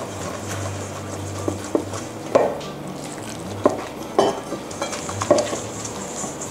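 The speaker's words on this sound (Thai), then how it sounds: "แล้วก็นวดสักแป๊บหนึ่งนะคะให้ไข่กับแป้งมันเข้ากันนะคะหลังจากนั้นนะคะเราก็เอาน้ำเนี่ยแหละค่ะผสมลงไป" Egg-and-flour dough is kneaded by hand as water is mixed in, producing irregular soft slaps, sticky squelches and sharp clicks over a low steady hum.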